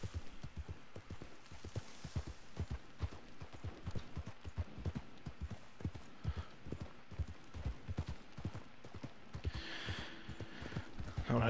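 Horse hooves in the Red Dead Online video game, a steady rapid clip-clop of galloping hoofbeats running continuously at moderate level, with a brief whinny-like sound near the end.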